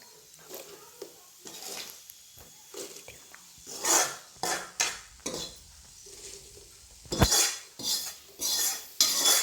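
Bhadang, a Kolhapuri puffed-rice snack, is mixed in a pot after a tempering is poured over it, giving loud irregular rattling scrapes and clanks of a spoon against metal in bursts, with quieter gaps between.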